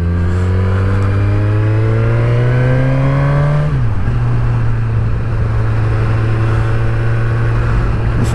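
Suzuki Katana 1000 motorcycle accelerating hard near the rider, engine note climbing steadily before a brief dip at a gear change, then pulling on with loud continuous wind and road rush underneath.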